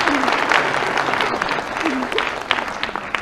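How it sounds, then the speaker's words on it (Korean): Audience applause at a live comedy lecture show, a short burst of clapping from the crowd with a few louder claps near the end. "다른 날은 여기서 다 박수가 나오는데"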